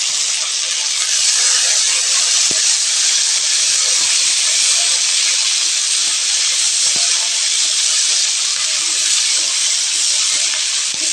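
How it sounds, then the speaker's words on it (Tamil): Curry leaves sizzle in hot oil with a loud, steady, close hiss that runs unbroken throughout, with a few faint pops and ticks underneath. "கருவேப்பிலை ஒரு 4-5 போட்டுக்கிறேங்க."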